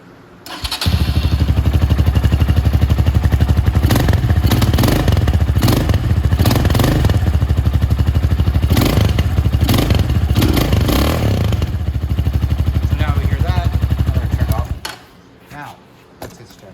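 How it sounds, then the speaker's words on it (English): A Venom Sportster 250cc chopper motorcycle with its stock carburetor starts and idles loudly up close, a steady thumping engine note lasting about fourteen seconds before shutting off, with a few clanks over it. "I just wanna start the bike first. I like this here with the stock carb on it."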